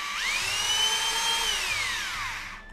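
A handheld electric drill with a variable-speed trigger whines up to a high pitch, holds steady, then slows and spins down as the trigger is eased, running close and loud with no talk over it.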